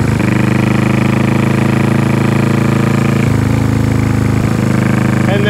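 A 1974 Honda CB360 motorcycle on knobby tires roars steadily and loudly while being ridden, with a constant engine drone and slight shifts in pitch, and no talk over it.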